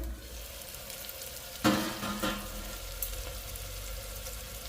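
Onion and tomato cook in a pan for green pea rassa bhaji, giving a soft steady sizzle, with a sudden louder burst of frying and stirring scrapes near the middle before it settles again.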